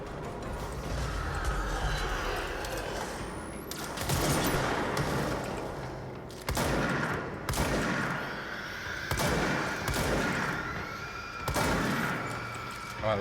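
Slug shotgun blasts in the game Control come in a string of loud, heavy reports about every couple of seconds amid clanking mechanisms and combat noise.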